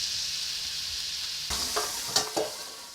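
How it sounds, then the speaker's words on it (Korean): Fish sizzles steadily in oil in a frying pan, with a hiss that swells as a utensil stirs and scrapes, followed by a few sharp clinks and sputters close by. "초간단 생선 굽기에 도전 중인데"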